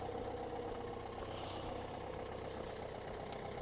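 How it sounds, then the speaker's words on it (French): Car engines warm up in the morning outside, a steady low idling rumble with a passing-vehicle drone that stays fairly faint and constant throughout, with no voices over it. "Je vais laisser passer le bruit de la voiture là."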